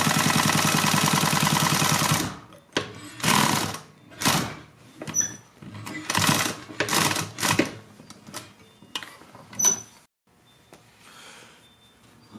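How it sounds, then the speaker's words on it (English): A sewing machine stitching down the long side of a fabric face mask, a steady close mechanical whir first, then a series of short rapid stitching bursts separated by pauses. "I will now turn the mask and sew directly down the long side again."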